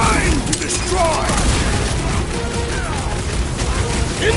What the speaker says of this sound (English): Incoming explosion!